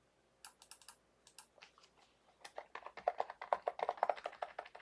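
Computer keyboard typing, sparse at first and then quickening into a dense, steady run of close, crisp key clicks while entering text for a word-search quiz game channel.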